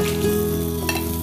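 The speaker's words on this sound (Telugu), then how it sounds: "మొత్తం ఈ బెండకాయ ముక్కలన్నింటినీ మనం ఇలా డీప్గా ఫ్రై చేసుకోవాలి కదండి" Okra pieces deep frying in hot oil, a loud, dense, continuous sizzle and bubbling throughout the short stretch, close and with no voices.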